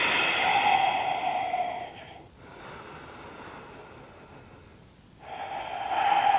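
Deep, slow breathing during yoga relaxation while lying on the back hugging the knees: two long, audible breaths close to the mic with a quieter pause between them.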